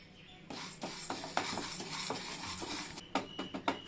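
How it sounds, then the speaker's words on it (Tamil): Raw rice and moong dal dry-roasting in a pan for sambar powder, with a steady rustling stir and a few sharp scrapes and clinks of a spoon against the metal toward the end. "இந்த பச்சரிசி பாசி பயிரும் போட்டு வறுத்து எடுத்துக்கோங்க"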